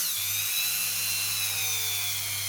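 A small abrasive rotary tool whirs steadily at high speed, cleaning fire scale off a brass coin ring made from an Icelandic 100 krónur coin; the whine is continuous and close, with no talking.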